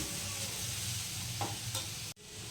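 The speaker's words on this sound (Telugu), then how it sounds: "స్టఫ్ అనేది సాఫ్ట్గా రావాలంటే సాల్ట్ వేసి కొంచెం నెమ్మదిగా మనం కలుపుకొని" Vegetable sandwich stuffing with salt being stirred slowly in a hot pan, a soft steady sizzle with a few gentle scraping strokes, close and quiet, ending with a brief thud.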